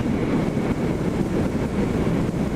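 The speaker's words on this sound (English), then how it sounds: "It's kind of windy today." Gusty wind roars continuously over a lake, a dense broadband rush buffeting the microphone with no voices.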